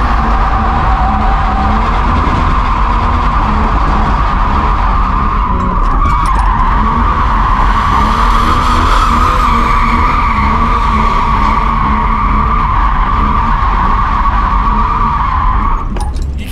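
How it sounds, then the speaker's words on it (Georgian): A car drifts with its tires skidding, producing a loud, sustained squealing screech with steady engine drone that holds almost unbroken for the whole stretch, briefly wavering midway. "და აქ ჩააყენე დრიფტში."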